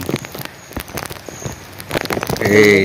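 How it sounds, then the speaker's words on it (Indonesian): Rain falls at a river picnic spot, dense patter and drops striking a plastic cover close by, with loud irregular taps and a voice breaking in near the end. "hujan."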